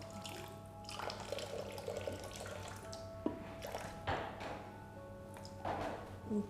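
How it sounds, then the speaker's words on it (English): Water pours into a bowl in a kitchen while German butter cookies and lollipops are being made, a quiet splashing trickle with a few drips and small clinks, close and faint. "now we're going to throw in 70 grams of water"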